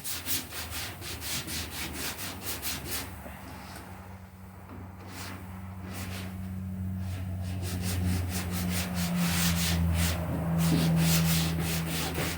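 Bondo body filler rubbed down with a long sanding board during custom bodywork, a steady rhythmic rasping of back-and-forth strokes close up, briefly easing off midway before resuming stronger over a low hum.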